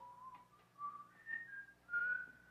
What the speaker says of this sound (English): Listen to him whistling to keep his courage up.